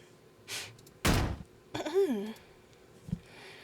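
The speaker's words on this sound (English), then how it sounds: "The office door burst open." In the NIKKE game, an office door bursts open with a single loud, close slam, set between a softer earlier knock and a short vocal exclamation, with quiet game ambience around it.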